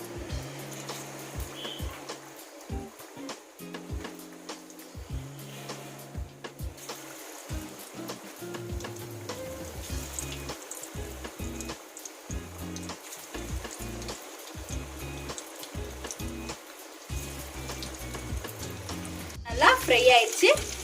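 Prawns for Prawn 65 fry in hot oil in a kadai over a medium flame. A continuous bubbling sizzle runs under background music, with a louder surge of crackling near the end.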